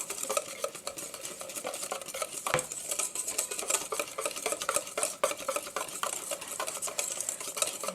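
Strawberry cake batter is mixed briskly in a bowl, a close, steady run of rhythmic whisking and scraping clicks against the bowl with no talk.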